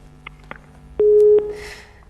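A telephone line drops during a live TV call-in, followed by a single steady electronic tone of about half a second, near and clear, after a few faint clicks.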